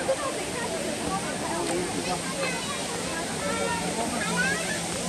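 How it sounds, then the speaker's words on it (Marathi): A waterfall among trees gives off a steady broadband rush of flowing water, moderately distant and constant, while people talk over it. "मस्त पाण्याचा वाहण्याचा आवाज येतोय या झाडांमधून"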